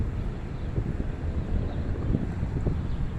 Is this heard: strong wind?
yes